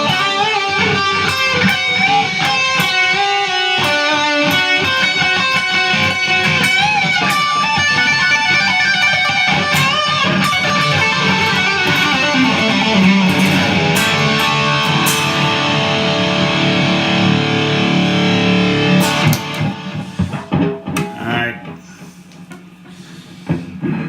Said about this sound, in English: boost in front with tube screamer, except I'm going to turn on delay